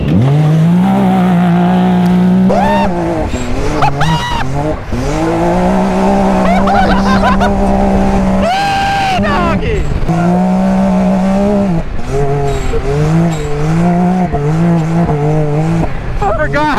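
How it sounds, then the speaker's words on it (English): A Can-Am X3 side-by-side revs hard and drives, its engine rising and falling in loud close surges with brief tire squeal, while people talk over it. "So the X3, this is probably your baddest side-by-side."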